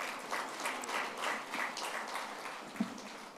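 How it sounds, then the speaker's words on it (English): An audience at a talk on India's 2023-24 union budget applauds the speakers, a brief, moderately faint patter of clapping from a modest crowd with uneven pulses. "So big round of applause for all of them."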